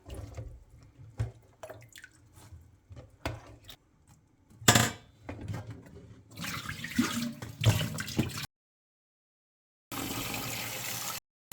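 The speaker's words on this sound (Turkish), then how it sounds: "Yıkadığım meyveleri kevgirin üzerine alıyorum. Birkaç su yıkayacağım." Pyracantha (firethorn) berries are rinsed in a colander, with close splashing, dripping water and intermittent sloshing, then a short pause before another burst of running water.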